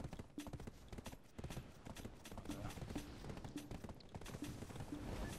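Horse hooves in the Black Desert Online console game during a siege battle, rapid repeated clip-clop of galloping mounts, faint and busy with overlapping game effects.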